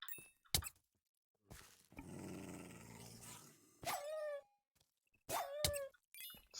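A dog in a video game makes short growls and whimpering yelps in separate bursts, along with a dull thud and a stretch of low rumbling game noise between quieter gaps.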